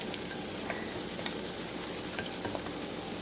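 An egg fries in a pan for a breakfast sandwich, giving a steady close sizzle with small pops and crackles throughout and no talking.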